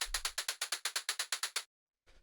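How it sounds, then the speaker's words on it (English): Synthesized operator percussion plays a rapid run of about thirteen evenly spaced, swung sixteenth-note hits, bright and clicky, for one and a half seconds, then stops before a brief faint return. "the next thing that we have here is this operator percussion, which sounds like this"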